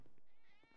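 A short, close cat meow in a roleplay video game, set in a cat cafe, heard alone and clearly.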